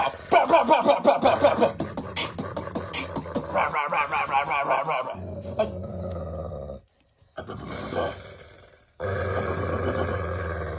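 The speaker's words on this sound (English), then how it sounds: "the dog is like making those noises" A dog gives a string of loud growling, roaring grunts and honk-like vocal bursts, some rapid and rhythmic, with brief pauses and a near-silent gap before a final stretch of noise.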